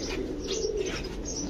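Pakistani Kamargar pigeons, a pair, coo softly and steadily, their low throaty calls blending into a continuous murmur with a few faint chirps above, close by and without speech.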